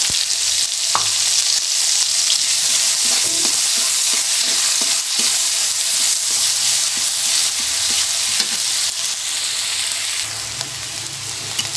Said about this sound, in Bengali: তেল গরম হয়ে গেছে এখন রসুন দিয়ে দিচ্ছি আর দিয়ে দিচ্ছি পেঁয়াজ কুচি